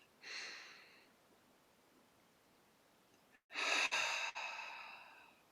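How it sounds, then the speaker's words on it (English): Two slow, deep breaths taken during a guided spiritual healing session, a soft inhale near the start, then after a pause a louder, fuller breath that trails off, in a quiet room. "And breathe."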